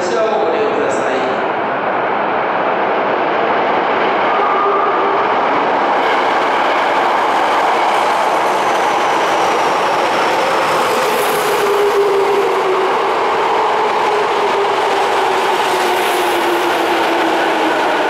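A Tokyo Metro Tozai Line subway train rumbles steadily into Ochiai Station, its roar and rail noise filling the space before a faint high squeal of braking.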